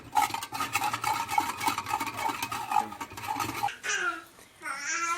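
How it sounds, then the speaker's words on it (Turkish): A spoon stirs red chili powder into a beyti kebab mixture in a bowl, giving rhythmic scraping and clinking strokes for several seconds before a brief softer rustle. "kırmızı toz biberimizi de ilave edelim ve bunu karıştıralım"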